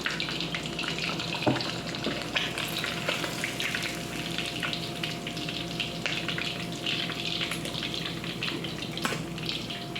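Fish frying in hot oil, a steady, fairly quiet sizzle and crackle holding evenly throughout, with a few soft clicks and no talking.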